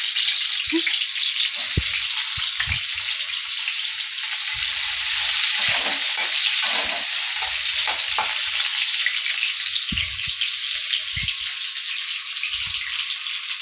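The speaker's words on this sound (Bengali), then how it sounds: "এরকমভাবে কেটে আলুটাও এর মধ্যে দিয়ে একটু ভেজে নিই" Potatoes sizzle steadily in hot oil in a pan after pointed gourd was fried, a continuous loud crackling hiss with occasional stirring knocks underneath.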